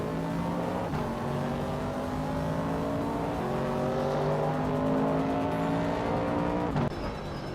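Race cars in a racing video game, including a 1968 Chevrolet Camaro, roar steadily at high revs with engine pitch stepping up and dropping at gear shifts, loud and continuous.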